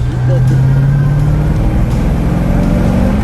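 A 1997 Corvette engine rumbles loudly and steadily through a tweaked exhaust, a low drone that rises slightly in pitch, with wind and road noise close around it.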